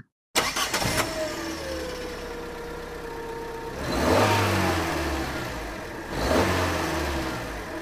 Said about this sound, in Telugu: ఇప్పుడు మనం కార్ ఇంజన్ శబ్దం విందాం